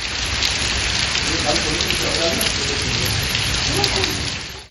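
Heavy downpour during a thunderstorm, with steady loud hiss of rain falling across the whole stretch, dense and continuous with no gaps.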